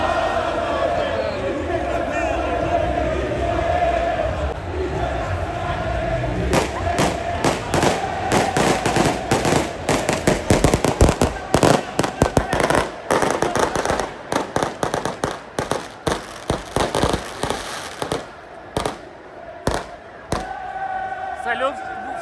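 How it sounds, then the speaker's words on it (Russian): Inter fans set off fireworks and firecrackers outside the stadium before a Milan derby, with dense bursts of sharp bangs and crackles over a noisy crowd, loudest in the middle and thinning toward the end. "Салют в честь будущего чемпионства Интера."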